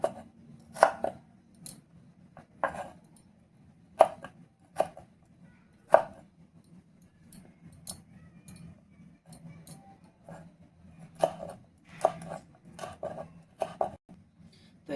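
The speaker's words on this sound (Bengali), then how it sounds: "ক্যাপসিকামটা কিন্তু আমি একদম ছোট ছোট টুকরো করে কেটে নিয়েছি" A knife chops capsicum into small pieces on a board, giving irregular crisp knocks in short bursts separated by pauses, close and fairly quiet, with no talk.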